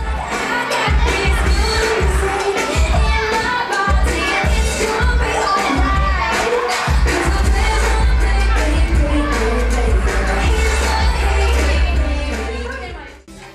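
A big crowd of children fills a hall at a Santa Claus party, loud shouting and cheering mixed with thumping party music, continuous and close throughout.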